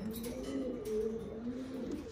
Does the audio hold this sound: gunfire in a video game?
no